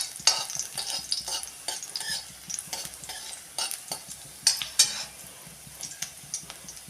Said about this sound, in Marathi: मिरची थोडी परतून घेऊया